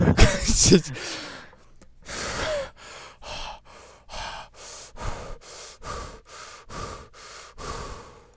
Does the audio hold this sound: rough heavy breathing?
yes